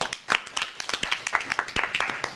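A small audience at a Kent, Ohio city council meeting claps, a brisk, thin patter of individual hand claps lasting a couple of seconds, fairly faint and roomy.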